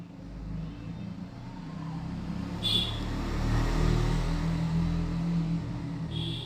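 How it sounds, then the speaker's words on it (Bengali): Heavy road traffic outside a home kitchen, several cars rumbling past in a low continuous drone that swells toward the middle and stays moderately loud. "প্রচুর গাড়ি যাচ্ছে, কিছু করার নেই।"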